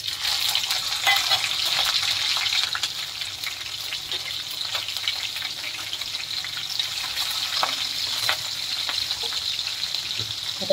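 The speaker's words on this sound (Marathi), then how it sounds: "तर मी हिरव्या मिरच्या कापून घेतल्यात, आड्या उभ्या, ते टाकते" Green chillies frying in hot oil for a mixed village vegetable dish make a steady, close sizzle that runs on without a break, louder in the first seconds, with a few faint clinks and no talk.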